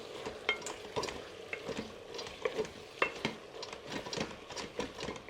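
Pork being stirred in a pan after a few dashes of white pepper and a teaspoon of five spice powder, with repeated close scraping and clinking strokes over a low sizzle, no talking.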